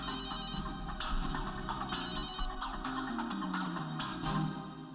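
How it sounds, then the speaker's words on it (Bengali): A telephone ringtone plays loudly and continuously, a repeating electronic melody with bursts of chiming tones that fill the whole moment. "বম্বারের ফোন, কিন্তু ও আমাকে ফোন করবে কেন?"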